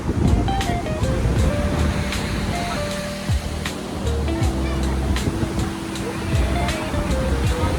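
Sea waves surge and wash loudly and continuously during heavy rain, mixed with wind noise and faint voices in the background.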